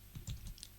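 Computer keyboard keys tapped in a quick, faint burst of a few clicks, close and alone with no voices.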